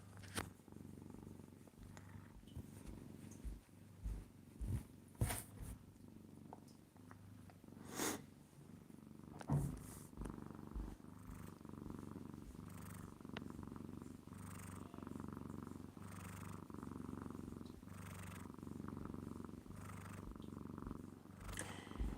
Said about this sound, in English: Hopefully y'all can hear that purr.